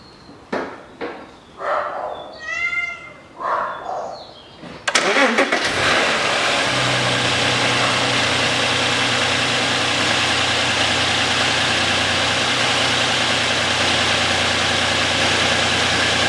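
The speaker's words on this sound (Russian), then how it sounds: "Запускаю двигатель." A 2007 Audi Q7 engine cranks and fires after a few seconds of quiet, then settles into a steady, loud idle that runs to the end with no talk over it.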